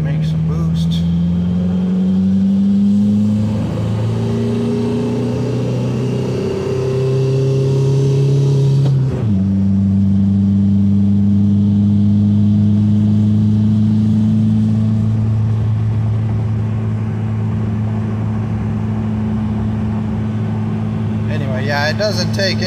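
A Toyota swapped with a 1.9L TDI diesel and a GTC2262 turbo pulls hard up through the gears, a loud droning engine rising in pitch, dropping at a shift, then holding a strong steady boosted note with a faint whistle; a voice speaks over it.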